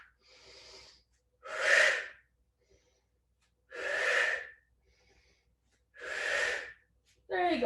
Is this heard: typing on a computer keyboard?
no